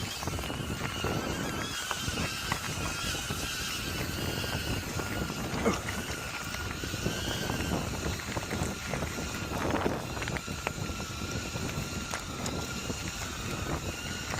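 Strong wind buffets a Hover Air Aqua drone flying high over open downland, a constant rushing, gusty roar with rumbling microphone buffeting and no clear voices.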